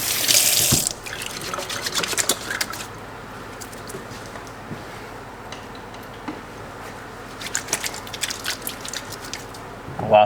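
Water runs from the cold tap of an old sink faucet, a brief loud gush at the start, then a faint steady trickle and scattered drips.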